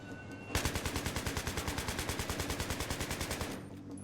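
Rapid automatic gunfire in the Battlefield 3 game peppers an aluminum train car, a steady burst of about three seconds of evenly spaced, sharp shots that begins abruptly and stops cleanly, heard alone with no talking.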